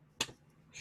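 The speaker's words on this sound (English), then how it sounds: "Oh, she's clapping" One sharp clap from a woman attending an online music-education seminar, a single quick crack in an otherwise hushed room, followed by a faint softer rustle near the end.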